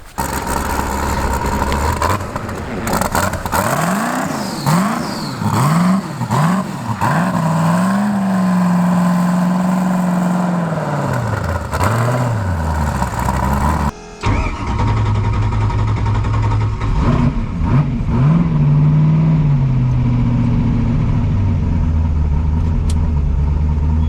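Turbocharged V8 Ford Mustang on winter tires in cold weather, revving hard through a first-gear pull down an alleyway, loud and close with repeated rising and falling engine sweeps, then a lower, steadier engine drone after a brief break.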